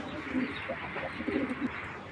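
Pigeons, large black racer birds for sale, coo softly in low repeated murmurs, a few soft calls spread across a short stretch over steady background noise.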